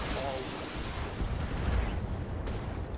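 Heavy mech weapons in BATTLETECH fire aimed shots, booming in a rumbling, dense volley of blasts and impacts that stays loud for the whole stretch, with faint game sounds mixed in.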